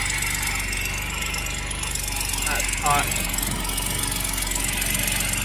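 A Jaguar car engine idles with a rapid, raspy ticking puff from an exhaust leak, close up, while someone speaks briefly over it.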